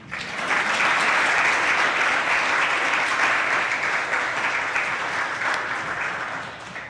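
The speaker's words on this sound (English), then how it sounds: "Don't we get a clap for that?" An audience at an academic conference for Black and minority ethnic early career researchers breaks into sustained, dense applause that swells quickly and holds steady for several seconds before easing slightly at the end, with no voices over it.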